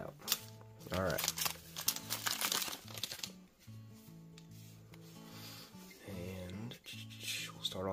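Foil wrapper of a Pokémon card pack from a Mew Ultra Premium Collection being torn and crinkled open, close rustling and rubbing in bursts, with a person talking throughout.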